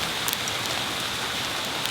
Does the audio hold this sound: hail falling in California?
yes